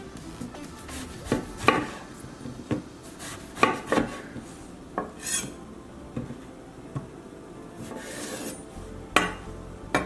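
Big kitchen knife chopping vegetables on a board while making Liberian eggplant stew, a string of sharp, uneven knocks and scraping rasps close by with no talking.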